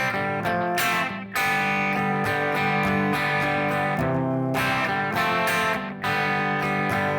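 Electric guitar strums a small barre triad on the top three strings in a La Bamba rhythm, bright and steady with short choppy pauses between bursts, loud and close with no voices.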